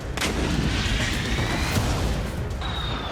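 Artillery fire near Siversk in the Russia-Ukraine war, heard as a dense, loud rumble of booms and blasts that runs without pause through the whole moment.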